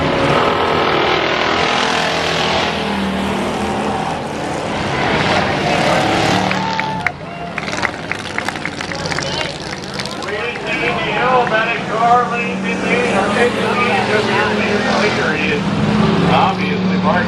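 Race cars scream around a track in a close battle for the lead, engines roaring loud and continuous, rising and falling as they pass, with an excited commentator talking over the noise.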